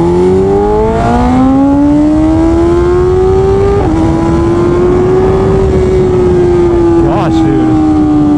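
A BMW S1000RR sport motorcycle with a stage 2 ECU flash revs loud and close, its engine note rising and holding high with a brief dip, continuous throughout.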